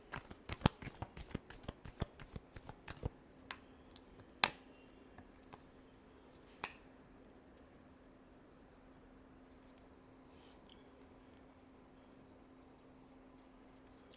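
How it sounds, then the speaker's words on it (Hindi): A tarot deck shuffled by hand gives a quick run of crisp riffling card snaps, then a few isolated flicks and taps that thin out into near silence over a faint steady hum. "Last shuffle."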